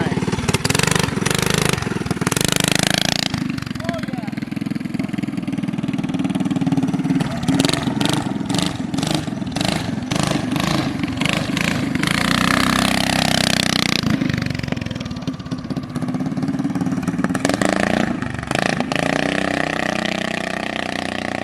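A homemade Doodle Bug mini bike built from Amazon parts runs its small engine loudly and close by, the drone rising and falling with repeated rev bursts, while people talk over it.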